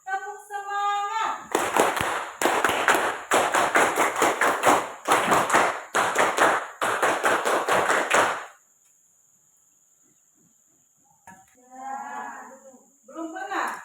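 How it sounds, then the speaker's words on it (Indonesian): Classroom students perform rhythmic 'tepuk semangat' spirit clapping, several loud grouped bursts of many hands in a set pattern, with voices before the clapping and again after a short silence. "kita mulai dengan tepuk semangat"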